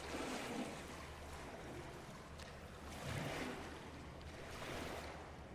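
Gentle water waves wash in a horror video game, soft and distant, rising and falling in slow swells over a faint windy hiss.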